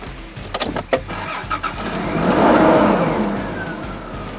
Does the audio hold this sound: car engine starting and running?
yes